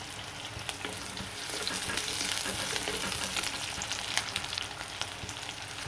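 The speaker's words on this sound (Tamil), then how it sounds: "வெந்தயம் கொஞ்சம் பருப்பு கொஞ்சம் நல்லா பொரியட்டும்" Fenugreek seeds and lentils frying in hot oil for a fish curry, a steady close crackling sizzle with scattered pops throughout, no voices.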